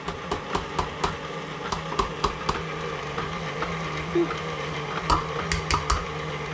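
Whoopie pie batter being mixed in a bowl, a steady run of sharp clinks and taps at a brisk, fairly regular rhythm over a low machine hum, close by, with a short pause partway through.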